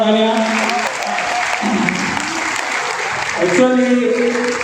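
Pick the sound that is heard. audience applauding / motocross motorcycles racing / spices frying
audience applauding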